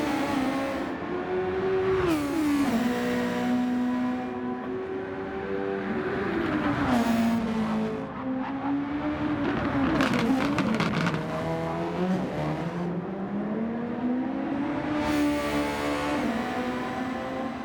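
Super Formula race cars roar through a race in Gran Turismo 7, with high engines revving up and down through gear changes and several cars passing close, loud and continuous throughout.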